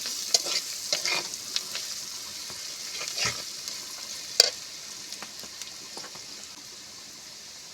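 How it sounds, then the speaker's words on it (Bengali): Spices with salt, turmeric, chili and cumin powder sauté in a pan for a lentil and jute leaf chorchori, a steady close sizzle broken by scattered stirring scrapes and clicks, with no talking. "এবার আমি মশলাটা ভালো করে কষিয়ে নেব"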